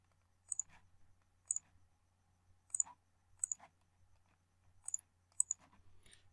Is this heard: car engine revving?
no